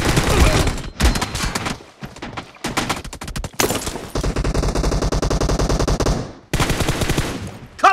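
Rapid automatic gunfire from a team deathmatch shooter video game, loud bursts of machine-gun fire separated by short gaps, with brief single shots and a faint voice in the mix.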